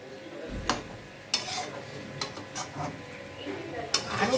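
Tomatoes stirred and sautéed in a frying pan, with a soft sizzle and intermittent scraping clatters of a spoon against the pan.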